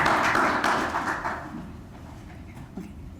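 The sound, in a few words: audience applause at an education forum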